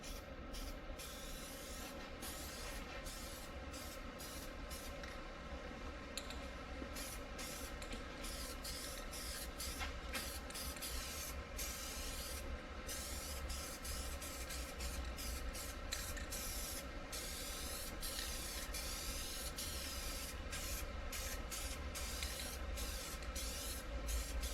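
Spray paint applied as a second coat on old door panels, a steady continuous hiss of the spray running close and nearly unbroken, with a few brief pauses.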